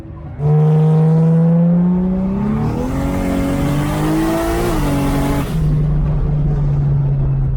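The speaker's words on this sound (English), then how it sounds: "So I went in a car powered by a Barra, and I liked it." Car powered by a Barra engine at a Powercruise event, loud and close, revving hard with a rising, falling engine note, shifting pitch mid-pull, then settling into a steady drone.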